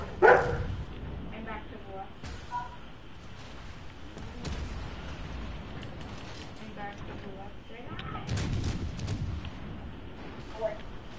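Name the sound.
dog barking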